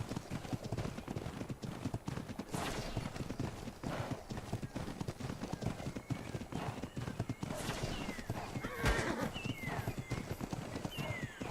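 A horse in the video game Ark: continuous clip-clop of hooves trotting along, with a few whinnies rising over the steps, moderately loud throughout with faint background game noise.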